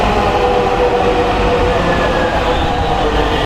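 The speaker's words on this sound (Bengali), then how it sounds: "এখন মেট্রো রেল, এই যে ট্রেন এসে পড়েছে" Dhaka metro rail train pulling into a station, a loud, steady rumble and rolling rail noise that fills the whole stretch, close by, then cuts off abruptly at the very end.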